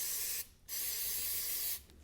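Brake cleaner sprayed onto a motorcycle brake in two bursts, a loud close hissing aerosol jet that briefly stops and then sprays again.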